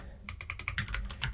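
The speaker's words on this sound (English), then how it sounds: "I'm not typing things out correctly." Rapid clatter of keys on a computer keyboard as someone types C code for a physics engine. The taps come in a quick, uneven burst after a short pause and sound close and fairly soft.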